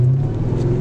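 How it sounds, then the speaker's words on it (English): Car engine with about 186,000 on the clock idles and rumbles at low RPM with a deep, muscle-car-like burble, steady and close for under a second. "Man, that really sounds like a muscle car"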